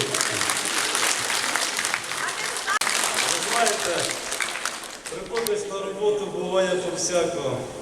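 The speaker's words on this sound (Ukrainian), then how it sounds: "Аплодуйте, чоловіка" Applause fills a school graduation evening hall. Many people clap loudly and steadily, then the clapping fades as an announcer speaks over it and music comes in.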